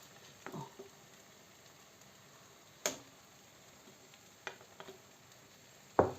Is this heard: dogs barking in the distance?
no